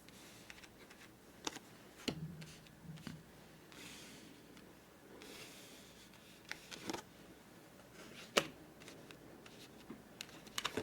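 Playing cards being slid and placed during a Monte Carlo solitaire game: soft, close taps and brushing sounds scattered irregularly over a quiet background, with no talking.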